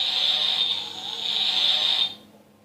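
A Mini Cooper toy car plays an electronic siren-like tone, triggered by touching the button at its front wheel. The shrill, steady tone is loud and close, holds for about two seconds, then cuts off, with no voices.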